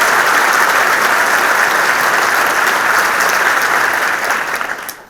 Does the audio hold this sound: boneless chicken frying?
no